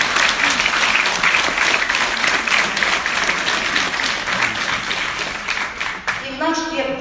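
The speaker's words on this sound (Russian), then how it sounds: "Аплодисменты" An audience applauds during a talk by an APL Gold Ambassador, a loud, thick burst of clapping that holds steady, then thins near the end as a voice starts to speak.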